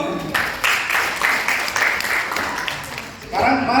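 Applause from a seminar audience at a marketing-plan presentation, a broad, steady clatter of many hands lasting several seconds and swelling again near the end, with voices mixed in beneath it.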